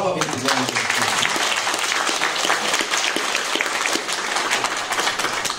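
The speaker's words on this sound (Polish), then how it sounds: "Brawa wielkie dla nas." Applause from an audience at a Polish church and school commemoration of the 149th anniversary of the Drelów Uniate martyrs, steady and dense for several seconds, with a voice talking over it.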